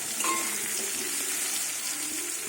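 Pumpkin pieces sizzle and crackle in hot oil in a pan, a steady, fairly soft frying hiss with faint bubbling and no one speaking.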